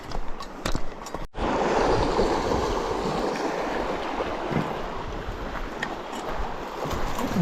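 Fast-flowing river water rushing along the edge of a sandbar near a crossing on the Moose River route in northern British Columbia, a steady broadband roar with wind buffeting the microphone and a sharp knock near the start.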